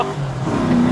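A Toyota farm truck with a swapped-in 1UZ V8 engine accelerates hard, its steady low exhaust drone building and rising in pitch near the listener, loud and continuous.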